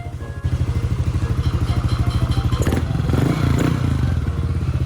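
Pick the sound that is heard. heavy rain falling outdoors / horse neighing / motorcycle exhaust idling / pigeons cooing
motorcycle exhaust idling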